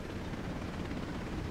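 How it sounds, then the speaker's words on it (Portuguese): In the video game Break Point, a helicopter that has lost control keeps up a steady, muffled rotor drone, moderately loud and unbroken through the short moment. "Perdi o controle do helicóptero, velho."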